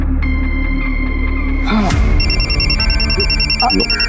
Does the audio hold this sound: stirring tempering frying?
no